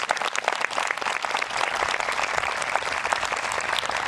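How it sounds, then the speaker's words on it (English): Steady applause from a crowd at an 8th grade promotion ceremony, dense and continuous clapping throughout with no voices over it. "That you give them a round of applause, please."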